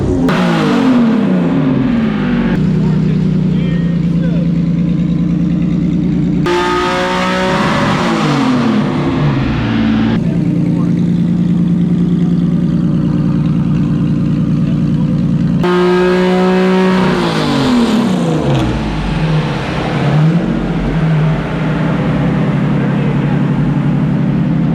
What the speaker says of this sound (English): We're going to see how much power we can make with this J series and then pull the power away.